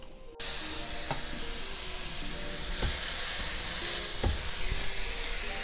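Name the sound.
shredded radish stir-frying in a pan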